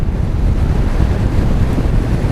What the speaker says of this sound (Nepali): हावा औडै लागिरहेछ।